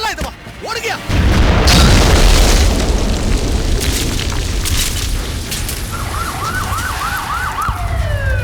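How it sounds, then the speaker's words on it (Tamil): A bomb blast in a Tamil film scene from Velayudham: a sudden loud boom followed by a long roaring rumble, with a wailing emergency siren rising in the background afterward. "ஓகே, இன்னும் 10 செகண்ட்ல வெடிச்சிரும்."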